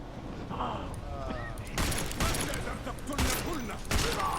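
Gunfire in the video game Deus Ex: Mankind Divided, a few sharp bursts of shots cutting through a busy game soundscape, with someone talking over parts of it.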